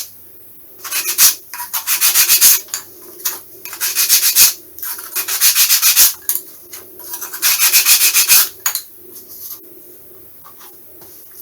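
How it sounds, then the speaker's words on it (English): Sandpaper rasps along the edges of plywood parts for a 1/6 scale Tiger Moth model, close and loud, in four or five rhythmic bursts of quick back-and-forth strokes separated by short pauses. "let's just sand up all the edges"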